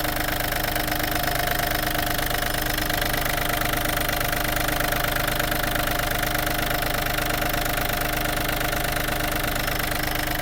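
A Yanmar FX-255 Japanese mini tractor's 25-horsepower diesel engine chugs loudly and steadily at idle, a constant rough knocking drone with no pauses.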